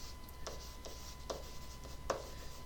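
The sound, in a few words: writing by hand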